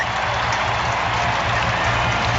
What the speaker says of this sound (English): There's the cheer in the background from the crowd.